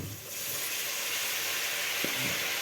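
Drumstick leaves (murungai keerai) sautéing with tomato in a pan: a steady, continuous sizzle and hiss, close and moderately quiet, with no talk.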